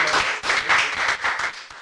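Applause and clapping ring out from an audience at a live comedy show, a loud, dense wash of hands that swells and dips in waves across the whole moment.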